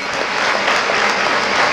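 A gathered audience bursts into loud, dense applause for the guardian minister at a public event, a brief continuous roar of many hands clapping close by.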